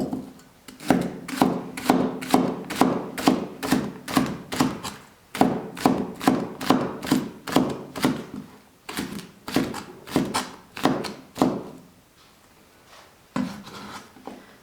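A kitchen knife chops scallions on a cutting board in a home kitchen, a long run of quick, evenly spaced, close and crisp blade strikes, pausing briefly partway and near the end, with no talking.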